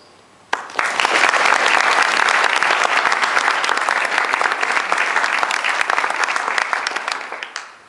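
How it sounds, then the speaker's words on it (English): A large audience at a scholarship and prizes ceremony applauds its sponsors, loud sustained clapping from many hands that starts abruptly, holds steady for several seconds and slowly tapers off toward the end. "would you please join me, ladies and gentlemen, in a round of applause to thank and recognize the importance of our sponsors"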